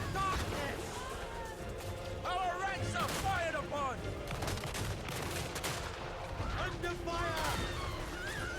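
Rifle volleys in a Warhammer battle video game against Chaos Dwarves, rapid overlapping gunshots and crackling fire mixed with game music and battle noise, continuous and moderately loud.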